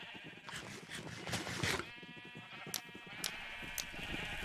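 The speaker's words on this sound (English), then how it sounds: "That should not touch my sheep, I don't think." Sheep in the Minecraft video game bleat in a few wavering, nasal calls, close and clear, with short clicking game sounds scattered between them.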